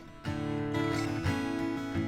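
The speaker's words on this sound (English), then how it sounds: "But that'll be an always on reverb, sounds like this." Strummed acoustic guitar chords through a Line 6 Helix plate reverb, played at a moderate, even pace, each stroke washed in a smooth, lingering reverb tail that blurs into the next.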